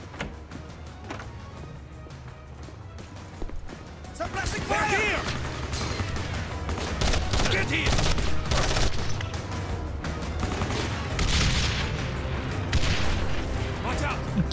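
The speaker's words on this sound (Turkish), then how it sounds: "İki tane el bombası attım." Grenade blasts and rapid gunfire from the shooter game Code of Honor 3, a dense, loud stretch of booming explosions and crackling shots that builds after a quieter start, with a mechanical rattle underneath.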